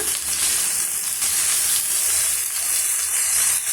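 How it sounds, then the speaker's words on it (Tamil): A handful of coriander leaves sautéing in a pan for mint chutney: a loud, continuous hiss of frying with a faint, even bubbling underneath and no voices. "ஒரு கைப்பிடி அளவுக்கு கொத்தமல்லி இலையை வந்து எடுத்து வச்சுருக்கேன் சேர்த்துட்டு வதக்கி விடலாங்க"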